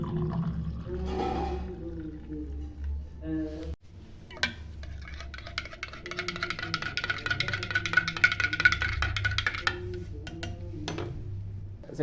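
Water pours into a cup in a home kitchen while making black coffee, a steady trickle over a low hum, with clinks of a cup or spoon and a thud partway through.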